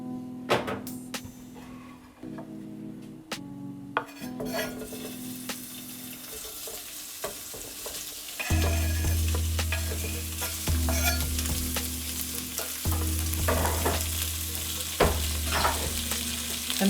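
Pre-cooked smoked sausage frying in a little olive oil, a loud close sizzle that swells sharply partway through, broken by clicks and scrapes of stirring, with no talking.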